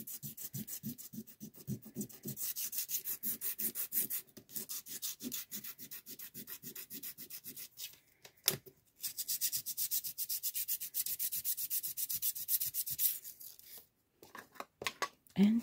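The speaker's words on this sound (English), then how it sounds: "I'm gonna use my nail file and I'm gonna sand it a little bit" A nail file sands glossy packaging paper in quick, rhythmic back-and-forth rasping strokes, close and fairly quiet, with a couple of brief pauses and a soft thump partway through.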